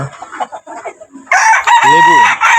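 A rooster crows loudly and close after a stretch of soft clucking on a rooftop garden, the long strained call dominating the end.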